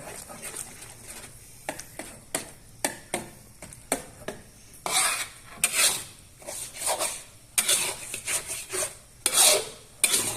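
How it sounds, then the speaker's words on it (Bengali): A spoon stirs rohu fish roe cooking in a pan, giving repeated rasping, scraping strokes against the pan in an irregular rhythm, close and fairly clear. "এভাবে ভালো করে নেড়ে চেড়ে সিদ্ধ করে নেবেন"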